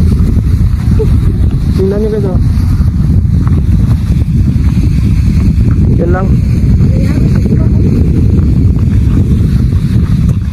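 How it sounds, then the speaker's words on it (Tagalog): Strong wind buffets the microphone in a steady roar throughout, while someone talks over it outdoors near where handmade flags are being flown. "Grabe guys, sobrang lakas ng hangin."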